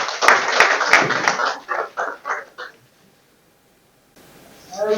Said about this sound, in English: Please applaud him one more time.